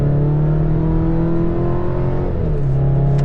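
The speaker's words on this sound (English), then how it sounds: "there's no way to really make a 4-cylinder like this sound cool" A 2026 Chevy Colorado Trail Boss pickup's turbocharged four-cylinder engine under acceleration, a steady loud droning hum with a rising tone, heard from inside the cabin with no talk.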